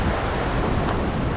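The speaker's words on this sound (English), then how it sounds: "Check out the river. There's the falls up there." A river and waterfall beside a running trail, a loud, dense, steady roar of rushing water with a rumbling low end, no voices.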